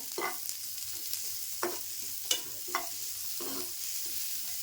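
Onion roasts in oil in a pan for Maharashtrian dhaba-style shev bhaji, giving a constant close sizzle and hiss with a few spaced spatula scrapes and taps.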